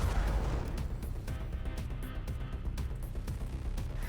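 Ballistic missile strikes in a Cuban Missile Crisis strategy video game, heard as a dense, continuous rumble of distant blasts and sharp pops with a heavy low boom at the start.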